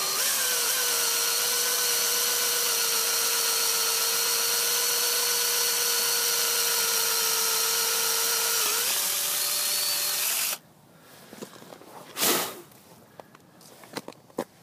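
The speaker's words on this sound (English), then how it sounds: "So I'm just going to drill in slowly." A power drill bores slowly into a block of ice to start the bowl of a hand-carved ice goblet, giving a steady, loud, high-pitched whine that runs unbroken for about ten seconds before cutting off into scattered scraping and crunching.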